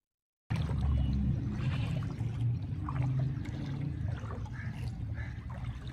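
Floodwater standing in a house after heavy rain in Gwadar, a steady low wash and trickle of moving water, continuous and close, with no voices.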